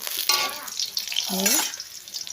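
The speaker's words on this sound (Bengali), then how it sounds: "এবার বসিয়ে দেবো লঙ্কা একটু কালো জিরা ভালো করে ভেজে নিই" Chilli and black cumin frying in hot oil, a close, continuous sizzle with crackling bursts and scraping noises from the pan.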